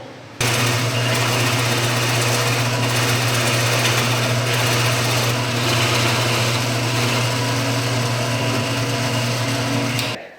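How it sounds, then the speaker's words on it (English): Power drill boring a hole into a cedar log in a woodworking shop, a loud continuous high-pitched motor whine that starts abruptly, holds steady for about ten seconds, then cuts off. "That's where I want to drill my hole."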